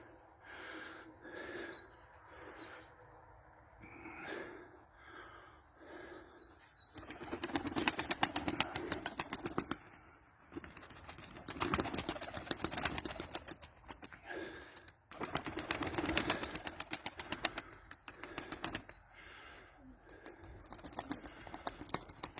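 Pigeons take off together in falling snow, a soft flurry of flapping wings that swells and fades in waves, faint and fairly close, with no talking.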